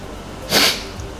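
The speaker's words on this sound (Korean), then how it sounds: "재채기 장난 아니네." A single sharp sneeze from a man, a brief burst of breathy noise that rises and fades within a second against a quiet room.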